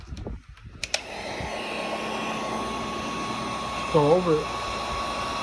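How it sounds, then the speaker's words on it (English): A heat gun aimed at a bottle label switches on after a couple of sharp clicks and blows a steady, close-up whooshing roar; a voice speaks briefly over the constant airflow. "the easier thing to do would be just to grab the heat gun"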